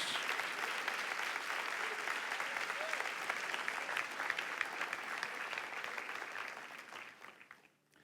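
A church congregation claps in sustained, even applause at a worship service, the full-room clapping steady for several seconds before tapering off at the end.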